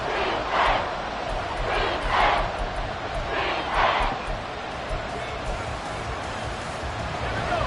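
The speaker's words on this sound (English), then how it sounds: "Well, this crowd into it now." A football stadium crowd during a late fourth-quarter NFL divisional playoff game roars in a loud, continuous wash of cheering, with repeated swells rising above the steady din.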